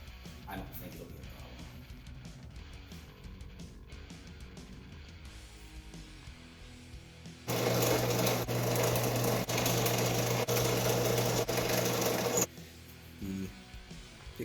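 Power drill boring small pickguard screw holes into an Esquire-style partscaster guitar body: a loud, steady whine runs about five seconds in the middle, then stops, with softer workshop handling noise and brief bursts before and after.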